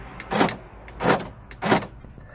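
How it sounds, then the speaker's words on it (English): Door lock switches on a 2021 Haval H2 1.5T Luxury actuating the locks in all doors, three separate hollow mechanical clunks with a short whir each, evenly spaced and close, with no talk. "operating them results in a very hollow sound emanating from all the doors"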